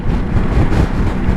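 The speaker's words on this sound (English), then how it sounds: "so wind is also rather strong here in this area" Strong wind buffets the microphone of a Ducati Multistrada 950 riding across flat open country, a loud, continuous low roaring rush with no voices.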